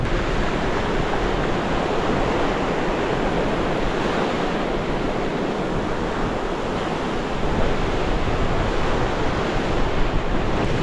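Continuous roar of ocean surf breaking on a beach at Cayo Cruz, Cuba, broad and steady, with wind buffeting the microphone throughout.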